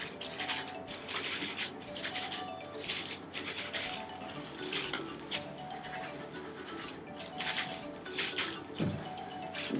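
Colored salt stirred in a jar for a craft project, a steady gritty scraping and clinking of a utensil against glass, continuous and close, without talk.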